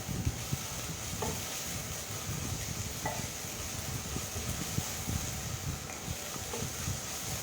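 Onions fry in a pan while being stirred, a constant dense sizzle broken by soft scraping and clinks from the stirring, close up and steady, with no voices.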